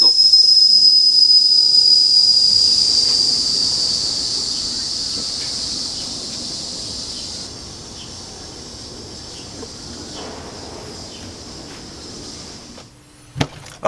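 The whistle of an old Wilesco toy steam engine blows loudly and high-pitched for several seconds, then fades into a softer hiss over background noise, ending with a brief click.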